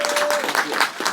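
An audience bursts into brief applause at a town hall meeting, a dense wash of clapping hands heard for about a second.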